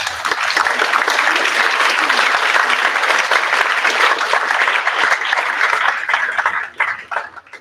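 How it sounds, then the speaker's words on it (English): An audience at a high school humanities symposium applauds two presenting groups, a dense sustained wash of clapping from many hands that stays loud throughout and thins out near the end. "Another round of applause for these two groups,"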